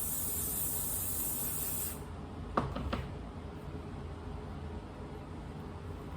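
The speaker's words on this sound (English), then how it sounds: "So I'm just gonna take my holding spray and I'm just gonna spray." Holding spray hisses from an aerosol can onto a wig, a loud steady spray for about two seconds, followed by a couple of short bursts and a quiet room hiss.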